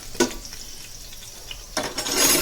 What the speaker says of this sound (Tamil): இப்போ எண்ணெய் சூடாயிடுச்சு. இதில் பச்சை மிளகாய் சேர்த்துக்கலாம்.